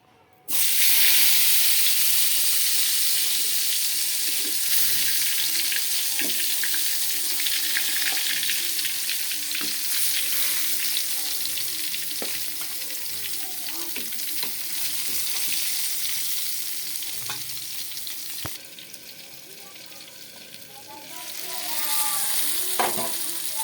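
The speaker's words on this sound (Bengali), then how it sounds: "এখন আমি এটা তেলে ভাজবো" Round slices of eggplant, potato and tomato coated with salt and turmeric frying in oil: a loud, steady, close sizzle with occasional stirring clicks that eases slightly toward the end.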